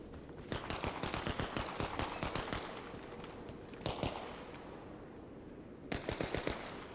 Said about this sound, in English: Suppressed AK.